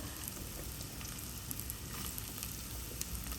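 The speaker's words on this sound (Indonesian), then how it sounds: "Lalu kita tumis aja sekalian jadi satu ya, bawang bombay," Onion and carrot sauté in olive oil in a cooking pot, giving a steady, close sizzle and frying crackle that runs evenly throughout with no talking.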